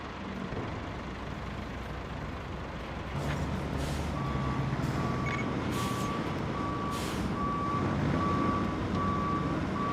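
Truck reversing beeps in the RoadCraft video game, a steady evenly spaced beeping over a continuous rumble of heavy truck engines, with brief hissing bursts like air brakes.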